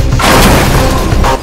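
A car explosion from a Telugu movie trailer for Adhee Lekka, heard as a single loud, close, roaring boom that fills the moment and rumbles on briefly before cutting off.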